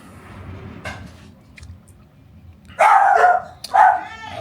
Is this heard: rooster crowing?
no